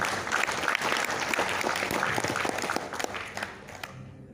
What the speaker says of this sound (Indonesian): Mohon aplaus buat Pak Asep Hilman